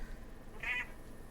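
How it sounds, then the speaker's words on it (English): A single loud, drawn-out cat meow rings out briefly over a low background hum. "I can hear a loud cat"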